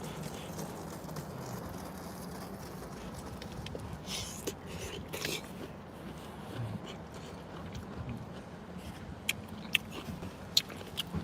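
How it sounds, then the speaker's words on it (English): Someone chews Chinese takeout with broccoli during a mukbang, soft close mouth sounds and bites over a low room hum, with a few sharp clicks near the end. "If you don't like chewing sounds and you like me, I'm so sorry."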